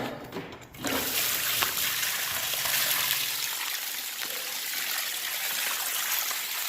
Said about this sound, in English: all that water dumping out